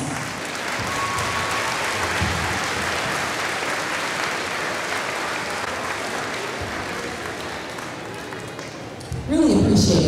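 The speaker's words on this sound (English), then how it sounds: "Give yourselves a round of applause." Sustained audience applause at a high school band concert fills the room for about nine seconds, steady and dense, before a voice cuts in at the end.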